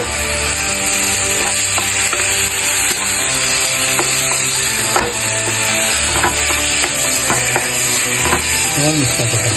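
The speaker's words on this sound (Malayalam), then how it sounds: "പാർട്ടിട്ട് നല്ലോണം മിക്സാക്കി" Chicken parts stirred and frying in a hot pan, with loud continuous sizzling over repeated scraping and clattering strokes of a spoon mixing the pieces.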